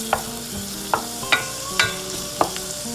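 Butter and extra virgin olive oil sizzle with chopped green onion in a pan for a salmon chowder, a steady frying hiss broken by several sharp scrapes and clanks of stirring.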